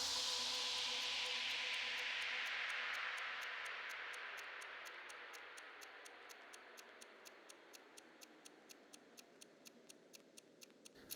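Steady mechanical clock ticking with a regular beat, emerging more clearly as a bright, washy ambient texture fades away; no voices.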